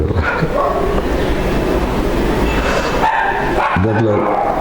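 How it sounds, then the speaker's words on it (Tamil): A dog barks and yips amid dense background noise, with voices and other clatter mixed in throughout. "நாய் கத்திட்டு கிடக்குது"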